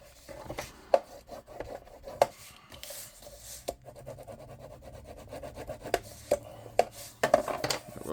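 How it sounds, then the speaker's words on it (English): Glued paper card tabs are burnished with firm rubbing strokes, a close, dry scraping rasp with scattered sharp taps and knocks, steady and fairly quiet with no talking. "then you can just simply push that up and burnish"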